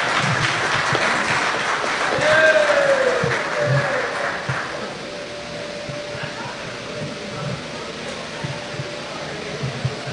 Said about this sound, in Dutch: een hartelijk applaus voor Michael Ashwin Adin